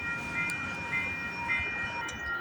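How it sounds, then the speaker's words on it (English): A CP eastbound freight train rolls past trackside, a loud steady rumble and rail roar with a faint high squeal, close and continuous without any talk. "we got a CP Eastbound train coming down the line"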